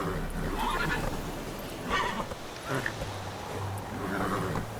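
Roach, Geralt's horse in The Witcher 3, lets out a few neighs and snorts while riding, with the calls spaced apart over a steady low background of hoofbeats and ambience.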